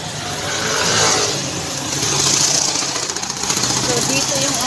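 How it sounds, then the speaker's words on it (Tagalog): Motorcycles rush past on a busy road, their engines swelling and fading in quick passes amid continuous traffic noise, with a voice talking over it. "Ang bibilis ng mga motor dito magpatakbo."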